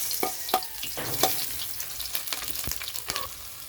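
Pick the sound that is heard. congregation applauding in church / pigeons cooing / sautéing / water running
sautéing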